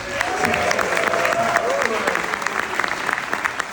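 A crowd claps and cheers loudly and continuously, with whoops rising over dense applause throughout.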